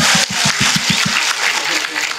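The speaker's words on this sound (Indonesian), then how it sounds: "Tepuk tangan dulu dong." Audience applause at an Indonesian religious lecture, loud continuous clapping from a crowd filling the whole stretch, with a few sharp rhythmic claps standing out near the start.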